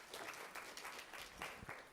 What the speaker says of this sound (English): Give a round of applause for our moderation.